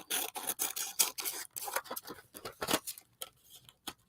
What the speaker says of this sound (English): So then I'm just going to trim this down.